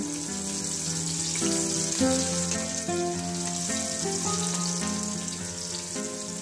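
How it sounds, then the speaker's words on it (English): Green chili and onion fry in a pan for fried rice, with a constant sizzle heard under melodic background music. "When they get brown, add green chili and onion. Stir and fry until light golden brown."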